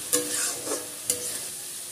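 Tomato with spices being stirred in a frying pan for a Bengali khorsula fish curry, two scraping spoon strokes over a soft steady sizzle, close and fairly quiet.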